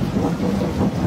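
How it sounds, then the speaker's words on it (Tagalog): Heavy rain pours with a low roll of thunder underneath, a brief, dense wash of noise with a rumbling swell. "Malakas na ulan."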